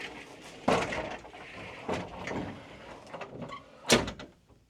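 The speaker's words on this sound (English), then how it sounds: "you got the pocket door to close off the bedroom" A pocket door in a 2013 Newmar Ventana motorhome slides closed, rolling and thumping a few times, with sharp knocks at the start and near the end, close and fairly loud.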